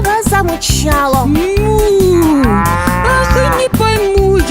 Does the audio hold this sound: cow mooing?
yes